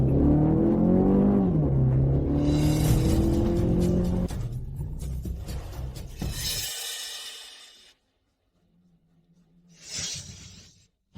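A car accelerates hard during a chase, its engine revving loud and close with rising pitch, then a sharp crash-like burst before the sound fades out.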